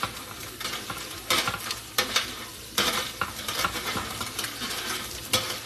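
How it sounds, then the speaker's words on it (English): Soaked bread pieces frying crisp in a pan for panzanella, a dense close crackling sizzle with repeated scrapes and clinks of a utensil stirring, steady and fairly quiet, with no voices. "I'm going to let this soak while I fry it up. Like, this is crispy. You hear it?"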